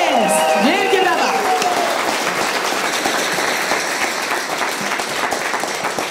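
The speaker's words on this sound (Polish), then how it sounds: "Wielkie brawa!" A stand-up comedy audience applauds loudly and steadily as the comedian comes on stage. A host's voice is heard briefly over the clapping at the start.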